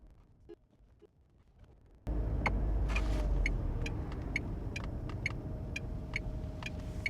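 A turbocharged Tata Nexon Creative+ S drives along as the engine note rises sharply into a loud, steady acceleration, with broadband road rumble, faint rattles and clicks throughout.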